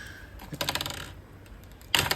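Hard frozen amla candies rattling and clinking together in a container, brief bursts of small hard clicks, close and crisp, separated by a quieter pause.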